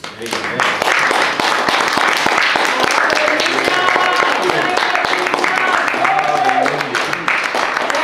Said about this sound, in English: leave everything in your hand and clap for Jesus